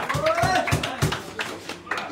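A small audience claps briefly after a request for applause, a short burst of scattered hand claps heard close alongside talking and a bit of light laughter.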